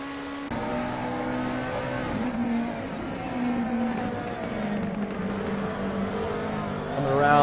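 GT3 race cars, a McLaren and a Ferrari, roar around the Mugello circuit in a sim racing game, engines whining and shifting pitch as they accelerate, loud and continuous, swelling again at the end.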